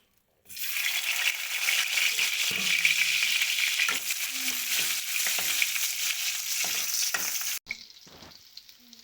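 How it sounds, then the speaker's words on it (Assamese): Onions dropped into a little leftover hot oil, after half-cooked pieces of mutton have been taken out, set off a loud, continuous close sizzle with stirring clatter, then ease to a softer fry at the end. "এতিয়া অলপ তেল আছে ন, তাতে পিঁয়াজ দি দিম"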